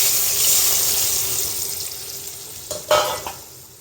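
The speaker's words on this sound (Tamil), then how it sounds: "இப்போ வேறு பாத்திரத்தில் மா நம்ம இந்த விழுதை கொஞ்சம் வதக்கி எடுத்துக்கலாம்" A ground spice paste sautés in sesame oil in a pan for a pumpkin stir-fry, producing a strong, bright, continuous sizzle that slowly eases, with a few sharp stirring scrapes toward the end.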